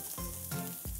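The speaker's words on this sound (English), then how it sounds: "we're gonna saute this until the onions are all caramelized and translucent." Onions sauté in ghee (clarified butter), a quiet, steady sizzle over one brief moment, with a faint tonal hum underneath.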